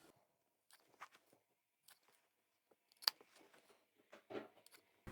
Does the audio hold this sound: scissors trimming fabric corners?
yes